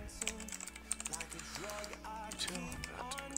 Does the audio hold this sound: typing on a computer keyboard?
yes